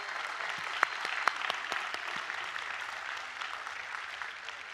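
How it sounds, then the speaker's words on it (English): A commencement audience at Merrimack College in 2018 applauds the medal and award recipients, steady dense clapping from a large crowd filling the whole moment, with a few sharper claps standing out near the front. "Please join me in applauding our Merrimack Medal recipient, Alfred Larson, and our Roddy Award winner,"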